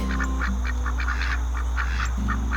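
Young ducklings squeak in quick, repeated high chirps, close and fairly soft, over a steady low hum, with a tufted duck among the birds.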